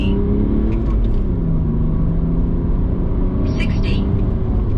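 Remapped BMW E91 estate with DPF, EGR and swirl flap delete accelerating hard from standstill, a loud in-cabin engine drone with rising harmonic tones through the run, interrupted briefly by a few faint higher clicks and beeps.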